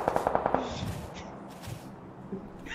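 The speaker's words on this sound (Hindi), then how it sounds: "कहाँ से गोली चली?" Rapid gunfire in the PUBG Lite battle royale game, a quick burst of several sharp shots at the start followed by scattered fainter reports under a noisy background.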